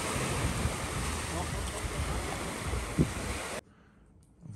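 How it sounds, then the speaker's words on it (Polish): Sea waves at high tide along a Thai shore at sunset make a steady, fairly loud wash of surf with wind rumble on the microphone, cutting off abruptly into near silence near the end. "Jeszcze spory przypływ."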